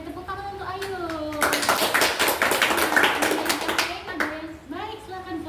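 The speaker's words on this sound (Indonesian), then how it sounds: "kita beri tepuk tangan untuk Ayu" A classroom or small group applauds a speaker named Ayu, a burst of clapping lasting a few seconds after a voice, with talk resuming as it fades.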